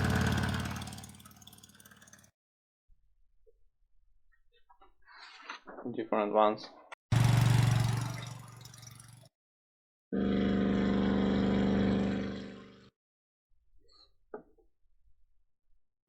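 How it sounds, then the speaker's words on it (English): Car engine sound assets from a simple Unity car game, played back as short separate bursts of idling and revving engine between stretches of someone talking. "like engine sounds,"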